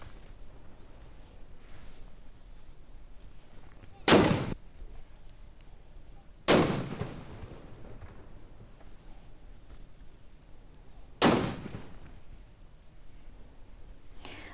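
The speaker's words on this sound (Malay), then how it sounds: "Pelepasan tembakan meriam dikendalikan oleh anggota polis tentera angkatan bersenjata di Raja Brunei." Ceremonial cannon fire by military police in Brunei marking the start of Syawal: three distant, booming shots spaced several seconds apart, each with a rolling decay over quiet background.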